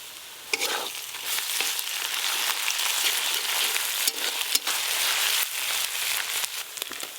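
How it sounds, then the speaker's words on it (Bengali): Ginger garlic paste fries with softened chopped onions in a pan for chicken curry, a steady close sizzle with occasional spoon scrapes and clinks from stirring. "এবার আদা রসুন বাটা দিয়ে দেবো উপর দিয়ে।"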